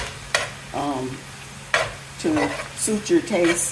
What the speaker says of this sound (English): I'm pretty much just frying it until it gets done